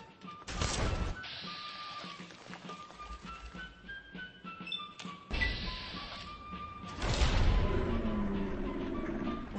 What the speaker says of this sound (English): Let's switch to grenades here.